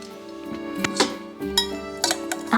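A metal pot lid clinks and clatters a few times against a pot, bright ringing taps at close range over a faint steady hum.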